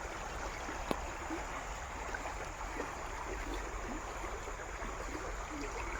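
Steady rushing of the Nirguda River flowing fills the clip, a continuous broadband wash with no pauses or voices.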